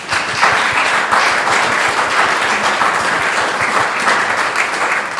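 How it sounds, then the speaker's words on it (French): A French round-table audience applauds musicians of the Monte-Carlo Philharmonic Orchestra, sustained loud clapping from many hands that holds evenly from start to finish. "je crois qu'on peut encore l'applaudir"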